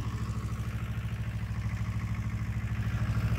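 A tractor pulling a rotavator runs at a steady 1500-1600 rpm through a wet, grassy field, giving a close, continuous low chugging throb with even pulses and no voices.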